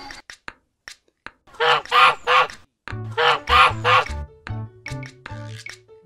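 Goose honks sound in loud repeated bursts over a steady backing song on a farm-animal theme, with short gaps between the calls.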